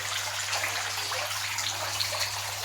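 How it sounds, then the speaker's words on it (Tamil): Water trickles and splashes continuously in a soft, steady stream from a decorative fountain, with a low constant hum running underneath. "அதுக்கு தண்ணி விழும்போது இந்த வாட்டர் ஃபால்ஸில் தண்ணி விழுற மாதிரி சவுண்ட் இருக்குது"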